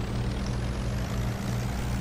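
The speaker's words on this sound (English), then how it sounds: "I'm just gonna do the plane because it's the fastest I have so far" An airplane flying in a Roblox video game gives a steady, loud, low engine drone with a constant hum and no voices.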